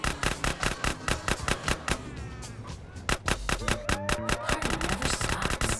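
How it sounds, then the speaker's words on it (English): Rapid, steady automatic gunfire in GTA San Andreas, loud repeated bursts over engine and game noise, with voices talking underneath. "Now come on, Smoke, shoot."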